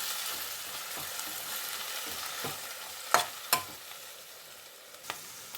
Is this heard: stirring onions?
yes